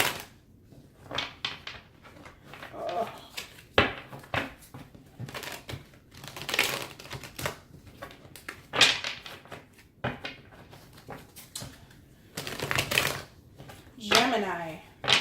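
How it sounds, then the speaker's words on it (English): Tarot cards are shuffled by hand in bursts of crisp riffling and rustling, interspersed with soft taps and pauses, close and fairly clear against a quiet room. "I'm going to go ahead and shuffle."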